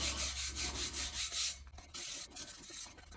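Close, steady rubbing strokes as holo flakes and foil butterflies are burnished down, a rhythmic series of about eight swipes followed by softer, irregular rubs and taps.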